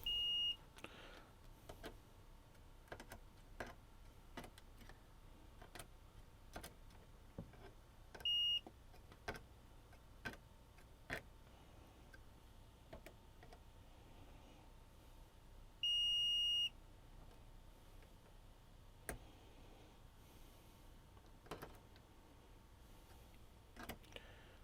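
Two short electronic beeps from a multimeter probing a JVC LT49C870 TV circuit board for shorts, spaced apart over soft ticking and clicking of the probes, with no speech.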